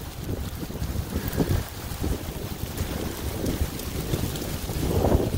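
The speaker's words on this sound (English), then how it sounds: "Here comes the wind." Gusty wind during a thunderstorm at the Jemez hot springs, buffeting the microphone in loud rumbling surges that rise and fall, with a stronger gust at the end.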